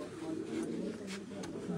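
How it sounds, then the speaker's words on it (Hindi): A female Faridpuri pigeon coos in a steady low murmur, close by and alone, with a brief thin chirp or two above it. "ये कबूतरी है जी काठे साहब इसी बच्चे की माँ है जी"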